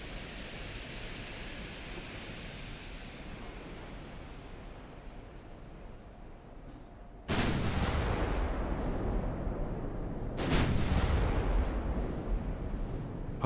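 Heavy naval guns boom in Ultimate Admiral: Dreadnoughts, two big broadband blasts several seconds apart, each rolling out over a steady hiss of sea and wind ambience, with no voices.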